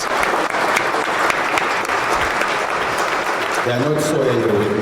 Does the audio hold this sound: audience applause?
yes